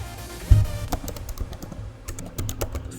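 Typing on a computer keyboard while writing HTML and CSS code, a quick, uneven run of close, crisp key clicks with a heavier thump near the start.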